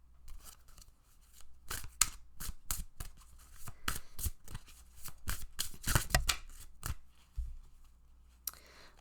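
Tarot cards are shuffled and pulled in a quiet room, a close series of crisp riffling snaps and flicks in uneven bursts, some sharper than others, with brief pauses between them.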